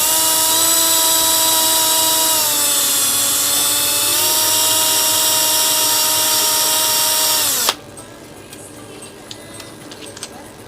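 A worn 608ZZ bearing in a KDK Hexos fan spins fast with a loud, rough whine and grinding buzz, holding steady for several seconds before abruptly stopping, leaving faint ticks and room noise behind.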